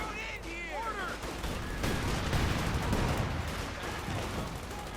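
Grenade blasts and gunfire crackle through a Company of Heroes 2 match, a dense, steady wash of combat noise with sharp reports over rumbling explosions, mixed with faint whistling and tonal game effects.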